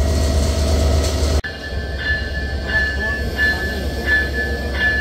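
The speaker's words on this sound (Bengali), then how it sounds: "এই লোকোমোটিভটি এখানেই রেখে দিয়ে আরও একটি লোকোমোটিভ এখানে অ্যাটাচ করা হবে" Locomotive, an American giant locomotive numbered 6623, being coupled to the Kapotaksha Express train: a loud rumble cuts off at a sharp jolt, then a quieter idling hum with faint tonal squeals.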